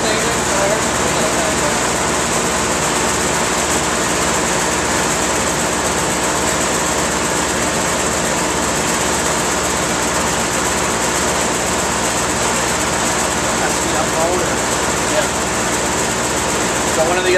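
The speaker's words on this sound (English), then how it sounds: "One of the unloaders on the compressor kicked in as we got to our set point." A Carrier 30GT series 45-ton air-cooled chiller compressor running at test, a loud, constant broadband roar and hum with no breaks, close by.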